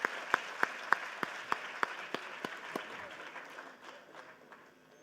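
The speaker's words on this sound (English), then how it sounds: "Can we have a great round of applause" Scattered audience applause for a lifetime achievement award at a health congress, a few sharp nearby claps at a steady beat at first, then thinning into softer, more distant clapping that fades.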